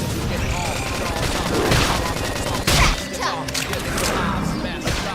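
A flame grenade goes off in a Xenoblade Chronicles X battle, a burst of crackling blasts and rapid thuds mixed with heavy game combat noise. Excited voices and chatter run over it throughout.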